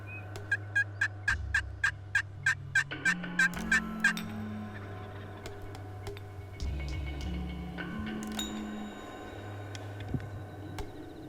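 Wild turkey tom in full strut gobbling, several quick loud gobbles near the start followed by low drumming hums and a few softer calls, heard fairly close outdoors with no talking.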